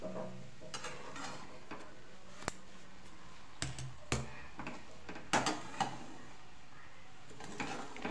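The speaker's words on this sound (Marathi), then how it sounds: "आता हे छान असं हलवून घ्यायचं सगळीकडे" A spoon stirring carrot halwa in a pan, giving soft scraping and intermittent sharp metallic clicks and taps at an irregular pace, fairly quiet and close with no voices.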